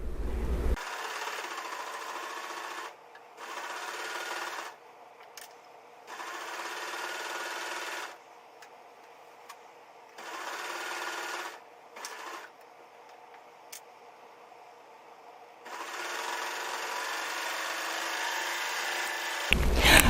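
A 4-thread sewing machine stitches a child's dress in repeated bursts of rapid whirring, several short runs separated by pauses, then a longer final run, close and clear with no talk.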